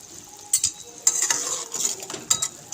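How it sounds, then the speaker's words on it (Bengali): Mustard paste being stirred into okra curry in a pan, with a spoon scraping and clinking against the metal in a few irregular strokes over a soft, steady sizzle. "সর্ষে বাটা দিয়ে একটু নাড়িয়ে নেব"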